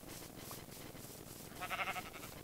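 A Minecraft sheep on the Hypixel server gives a short bleat near the end, faint against quiet game background noise, with no speech.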